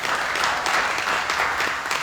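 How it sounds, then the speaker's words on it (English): Audience in a hall bursts into sustained clapping, a dense, even patter of many hands filling the space, loud and close with no voices over it. "Can we applaud that?"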